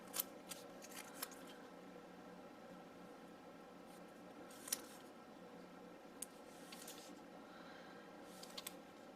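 Scissors snipping through paper while pieces are cut for a weekly planner agenda, a few quiet, sparse clicks and snips over a low hum of room noise, with no talking.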